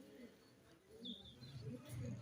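A Ferozpuri breeder pigeon gives soft, low, near coos in short repeated bursts, faint, with a brief chirp in between and light background noise.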